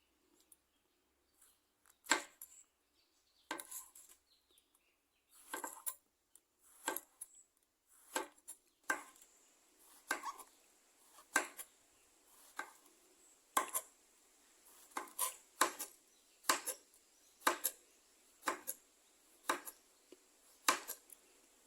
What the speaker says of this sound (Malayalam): ഒരു 3 വഴുതനങ്ങ എടുത്ത് കഴുകി വൃത്തിയാക്കിയിട്ട് ഇത് നമുക്കൊന്ന് കട്ട് ചെയ്തെടുക്കാം